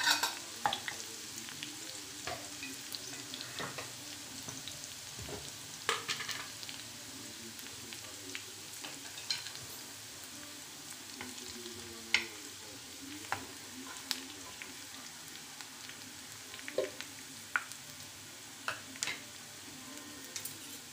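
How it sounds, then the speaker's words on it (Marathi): Onion and masala being sautéed in a pan for omelette curry, a soft steady frying sizzle with scattered clicks and scrapes of stirring, fairly quiet and with no talking. "त्याला छान परतून घ्यायचं."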